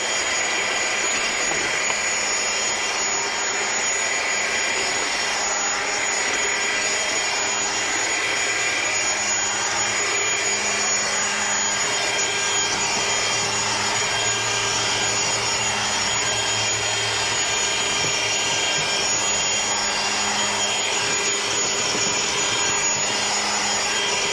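A DeWalt 60V Flexvolt cordless string trimmer runs steadily at close range, holding a loud, even high-pitched whine throughout with no bogging or drop in speed.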